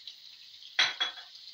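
A sharp burst of sizzling as curry leaves, two red chillies and cumin seeds drop into hot oil for tempering dal, flaring twice in quick succession before settling back into a steady low hiss.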